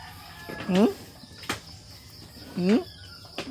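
Two drawn-out clucking calls from a chicken, a couple of seconds apart, nearby, with a few sharp knocks in between.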